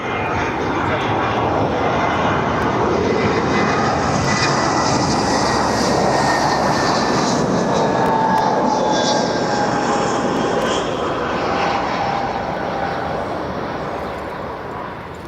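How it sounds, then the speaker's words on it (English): A Vueling Airbus A320 arriving at Barcelona airport, its jet engines roaring loud and close with a rising whine, then slowly fading as it passes, without talk. "So that was Vueling coming from Palma on the A320"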